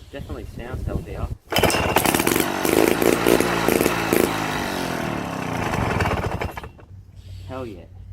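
A Victa 18 lawn mower petrol engine sputters, then catches and roars loudly at high revs for several seconds before dropping back to a rough idle, with speech around it.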